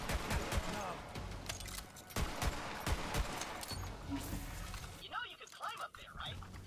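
Gunfire in Borderlands 3 played in virtual reality, quick bursts of shots and sharp impacts spread through the stretch, mixed with game effects and a player's voice talking over them.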